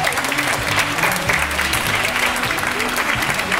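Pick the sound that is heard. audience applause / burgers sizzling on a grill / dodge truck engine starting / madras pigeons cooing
audience applause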